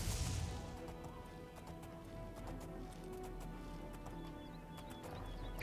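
A horse in the game Oblivion taking a hit, heard as scattered sharp thwacks and hoof-like clatters over a quiet, steady game ambience, with no talking.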